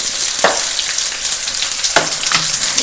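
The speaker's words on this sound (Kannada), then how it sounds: "ಇದಿಷ್ಟು ನೀಟಾಗಿ ಫ್ರೈ ಮಾಡಬೇಕು ಒಂದು ಟೂ ಮಿನಿಟ್ಸ್ ಇದನ್ನ ಲೋ ಫ್ಲೇಮಲ್ಲಿ ಇಟ್ಬಿಟ್ಟು ಫ್ರೈ ಮಾಡ್ಕೊಂಡು" Onion, garlic, ginger and curry leaves frying over low flame, a loud continuous sizzle broken by a few sharp stirring scrapes of a spatula in the pan.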